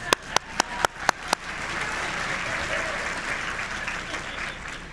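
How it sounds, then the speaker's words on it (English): An audience at a university multicultural graduation ceremony breaks into sustained applause. A few sharp, loud claps lead into a dense, even wash of clapping from a large crowd that carries on throughout. "So quickly, a round of applause."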